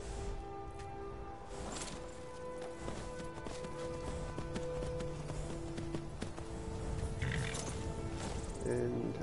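Horse hooves clip-clop steadily in a Skyrim-style fantasy video game, mid-distance and continuous, mixed with other game sounds and background music.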